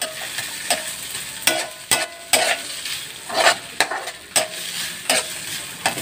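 Sliced ginger fries in hot oil in a pan, crackling and sizzling as a utensil stirs it in repeated scraping strokes, close and fairly loud, with no voices.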